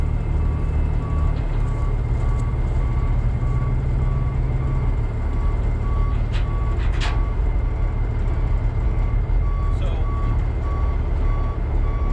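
An old truck backs in with its reversing alarm sounding a steady, evenly spaced series of loud electronic beeps over a continuous diesel engine rumble, with no one talking.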